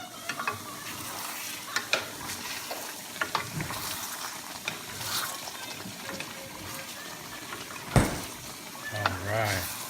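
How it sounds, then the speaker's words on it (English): Chicken asado sauce with carrots and calamansi juice is stirred in a sizzling pan, with soft scraping and bubbling throughout and occasional louder knocks of the utensil against the pan. "Then we'll give it a good stir."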